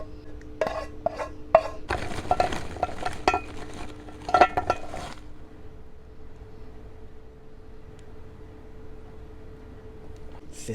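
Utensils scraping and clinking against a pot and tray while Indian fish curry is served out, a burst of clatter and scooping for about five seconds, then quiet with only a faint hum.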